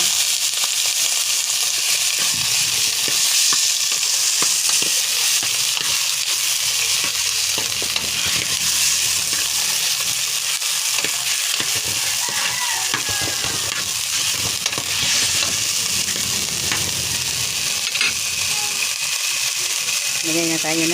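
Chicken fries in a pan with a dense, steady sizzle and crackle, loud and continuous throughout, with occasional stirring scrapes.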